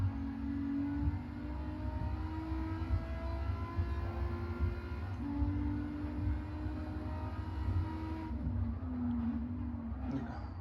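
A front-wheel-drive car with a swapped engine pulls hard through the gears toward sixth, its steady droning engine note rising and holding loud throughout with no voices.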